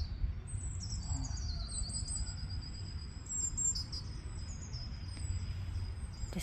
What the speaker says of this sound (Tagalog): napapaligiran ka pa ng mga tunog ng mga ibon